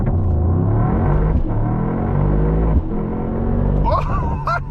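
A 2024 Mercedes-AMG GT63 V8 launches hard from a race start, its engine roaring loud and close with a steady low rumble that briefly dips during a gear change, while voices exclaim over it near the end.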